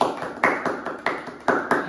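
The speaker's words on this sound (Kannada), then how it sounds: "ಹೊಡಿರಿ ಚಪ್ಪಾಳೆ." A few people clap their hands in short uneven bursts at a family juice-challenge gathering, the sharp claps loud and close with no talk over them.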